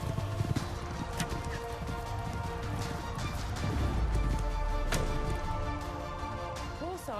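Horses galloping in the Age of Empires IV video game, a dense continuous drumming of hooves from horse archers mixed with battle noise and music, steady and fairly loud throughout.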